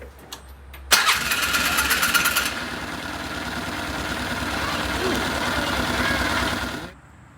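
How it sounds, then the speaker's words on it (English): A new fuel pump on a Polaris Ranger 500 switches on with a sudden onset, followed by a steady buzzing whir that carries for several seconds and then stops abruptly, close by. "There's our new pump turning on."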